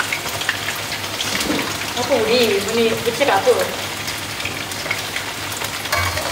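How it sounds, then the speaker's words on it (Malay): Chicken frying in a pan for buttermilk chicken, a steady crackling sizzle close by under a home kitchen conversation, with people talking over it throughout. "Sementara tunggu ayam goreng,"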